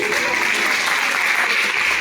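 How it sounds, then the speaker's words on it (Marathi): Audience clapping at a classical Indian music concert, a dense, steady wash of applause from a seated crowd that holds evenly loud for the whole stretch, with no voices breaking through. "मला असं वाटतं की त्यांच्या गुरूंसाठी पण टाळ्या व्हायला पाहिजे"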